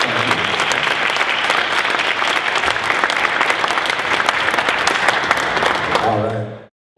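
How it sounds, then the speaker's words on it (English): A live audience at an indoor members' event breaks into sustained, dense applause for guest Simon Whitfield, steady and loud for about six seconds before cutting off abruptly. "How about a round of applause for Simon Whitfield?"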